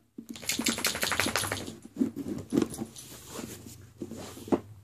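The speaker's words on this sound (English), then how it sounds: "My dog." A dog whimpers and yelps in short harmonic bursts close by, mixed with quick clicking and rustling as a subscription loot crate box is opened indoors.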